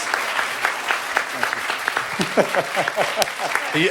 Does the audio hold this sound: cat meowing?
no